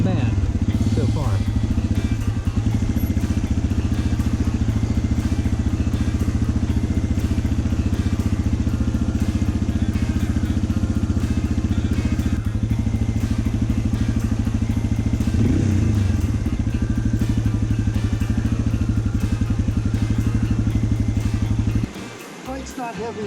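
A Yamaha XT225 or TW200 dual sport motorcycle picking its way over rocks and a rock shelf, engine droning steadily with thumps and clatter from the terrain; voices talk over it throughout.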